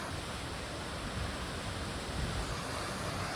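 Hidden Falls waterfall near Cheyenne, Wyoming, pours in a steady, close, full-bodied rush of white water that holds an even level throughout, with no voices over it.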